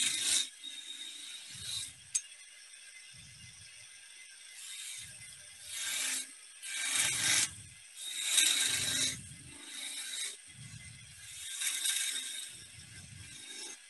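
A skew chisel cuts deep V grooves into wood spinning on a lathe, producing repeated bursts of scraping and rasping at a fairly regular pace, with low rumbles between the cuts.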